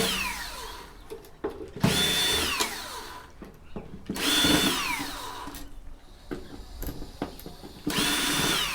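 A power drill or driver backs screws out of Cisco backplane boards during scrapping, in three loud whining bursts that rise and fall in pitch, separated by quieter handling clatter.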